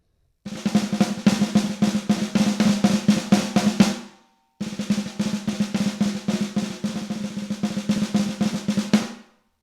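Digital drum pads are struck without the Roland module's sound, giving dull rubbery tapping in two fast, dense runs of hits of about four seconds each, separated by a short pause, close and with no voices.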